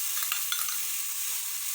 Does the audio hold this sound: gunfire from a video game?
no